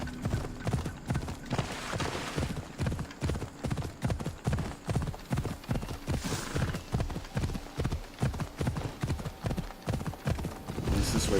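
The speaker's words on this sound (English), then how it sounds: "I'm gonna make good use of the horse." Horse hooves clip-clop at a steady trotting rhythm in Assassin's Creed Odyssey, a close and continuous beat with soft game ambience underneath.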